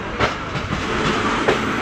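The Hyderabad Express passenger train rolls along with a steady, close rumble and faint rhythmic clatter of wheels over the rails, heard from on board with no voices.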